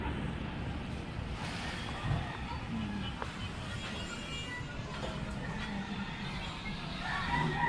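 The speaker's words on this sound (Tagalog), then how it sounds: "Lakas ng alon." Strong ocean waves surging in a broad, steady wash that fills the whole stretch, with wind buffeting the microphone and faint voices now and then.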